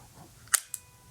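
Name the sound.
vintage camera leaf shutter firing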